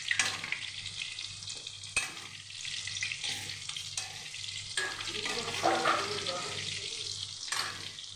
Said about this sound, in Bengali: দেখুন কত সুন্দর হচ্ছে পকোড়াটা।